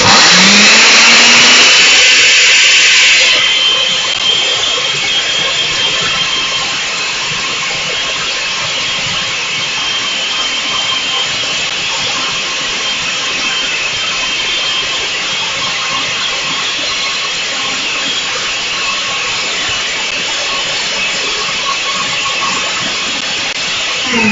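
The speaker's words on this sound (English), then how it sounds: "Put on the lid, and I'm going to blend it up until it's a smooth looking liquid." A blender purees aloe pulp into a frothy liquid, a loud continuous whirring roar with a high-pitched start that settles into a steady churning hum, close and uninterrupted.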